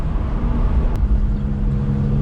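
A stage 2 tuned car engine drones loudly from inside the cabin, with a brief break in the sound as it upshifts under acceleration.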